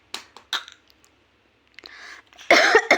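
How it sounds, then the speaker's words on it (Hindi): A child fakes a cough indoors with a few short, dry bursts, a brief pause, then a louder rough cough at the end. "मैं भी मेरी खांसी करेगा"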